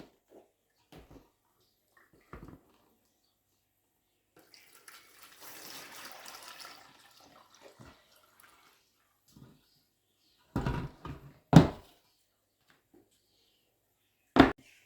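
Washing water poured off homemade cow's-milk butter during the third rinse, heard as a soft trickle followed by a few brief, close splashes and a final short pour in an otherwise quiet room.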